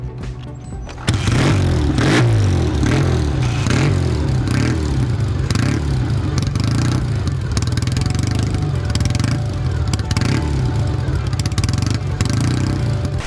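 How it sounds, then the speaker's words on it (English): A new Kawasaki W800 motorcycle on a test ride in Nagano Prefecture, Japan, its engine kicking in after a quiet second and then running loud and steady with a low, rumbling, clattery drone. "Ride PH is here in the Nagano Prefecture to test ride the new W800 by Kawasaki"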